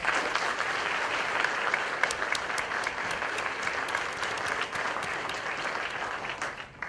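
A crowd at the ACMA 2013 national championship applauds the competitors, a broad continuous clatter of many hands held at an even level for about seven seconds, heard from within the room without speech.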